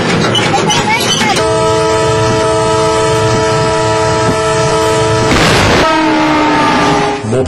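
A train passes a railway crossing with a long, loud, sustained horn blast. A second horn call follows, over the heavy rumble of rolling wagons, close by and dominating the scene.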